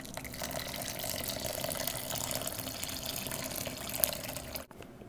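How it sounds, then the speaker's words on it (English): Two cups of boiling water poured into strawberry gelatin, a steady splashing liquid stream that runs evenly and close by for several seconds before stopping abruptly near the end. "Then you need to add 2 cups of boiling water."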